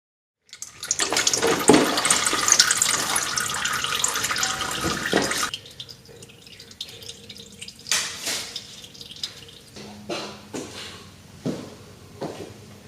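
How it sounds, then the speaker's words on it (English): Oil pours from the drain hole of a Ford F150 transfer case in a steady splashing stream for several seconds, then slows to scattered drips and trickles. "Remove the drain plug and let it drain thoroughly."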